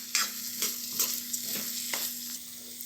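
Crushed peanuts and masala sizzle steadily in a pan while a spoon stirs them in repeated scraping strokes, about five sharp bursts of contact against the pan over the low, constant frying hiss, close and with no voices.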